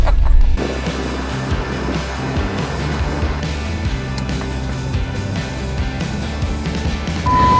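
A car being driven, with a steady low engine and road rumble holding evenly throughout, close and moderately loud, with no talk.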